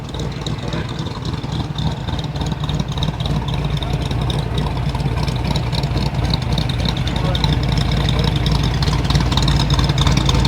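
A 1956 station wagon rolls past at a car show in Big Bear Lake village, its engine a steady low rumble amid crowd noise and people talking, moderately near.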